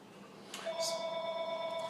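A telephone begins ringing partway through, a steady electronic tone that holds on without a break over a quiet room background.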